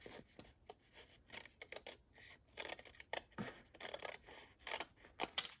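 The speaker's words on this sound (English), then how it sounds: "Now I can take my scissors and I'm going to kind of go under." Scissors snip and slide through paper in a run of short, crisp cuts, close and fairly quiet, with brief pauses between strokes.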